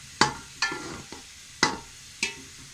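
Onions frying and being stirred in a pot for chana pulao, with a few sharp scraping strokes of a spoon over a faint sizzle.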